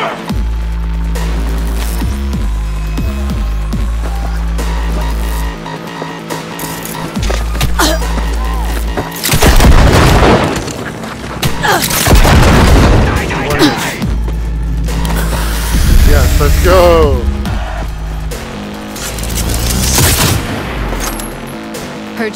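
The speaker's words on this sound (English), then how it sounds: "Heard shots." Gunfire and explosions from the video game Cyberpunk 2077, loud bursts and booming blasts over a steady low hum and game music, with rapid shots clustering through the middle.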